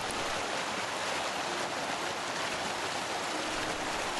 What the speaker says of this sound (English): The waterfall is Taylor Gill Force, and very nice it is too.